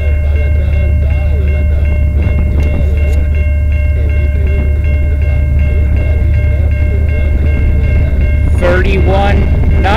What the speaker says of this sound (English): Here comes another CN train.